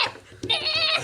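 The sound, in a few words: person imitating a sheep's bleat (D&D player polymorphed into a sheep)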